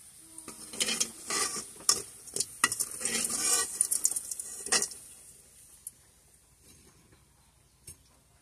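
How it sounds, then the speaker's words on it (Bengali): Jute leaf pakoras frying in oil, a crackling sizzle with stirring clatter early on that fades to faint, sparse pops and quiet bubbling, close by with no talking. "অন্য পকোড়াগুলোও আমি এভাবে ভেজে নেব"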